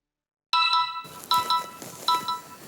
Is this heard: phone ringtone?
yes